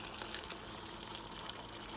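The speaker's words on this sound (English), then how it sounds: "You put just a little bit of water." Water poured from a tap into a pot for boiling eggs, a steady loud rushing splash that continues without a break throughout, with no talking.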